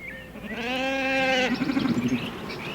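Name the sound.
sheep bleating while worked by a heading dog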